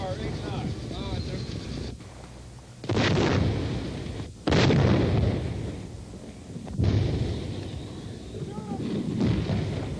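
Artillery shells slam into a wooded target area in a string of heavy, booming blasts, several loud impacts spread across the stretch with rumbling decay between them and radio-style voices over the top.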